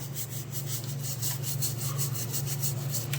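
Tea strainers soaked in vinegar are scrubbed with a brush, a quick, continuous rhythmic bristly rubbing heard up close over a low steady hum, with no talk.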